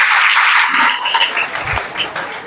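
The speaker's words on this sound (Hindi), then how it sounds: "और एक ताली बजा दो" Audience of students claps for someone speaking at a career guidance session in a Bihar government school, a dense burst of applause that fades after the first second into scattered, thinning claps.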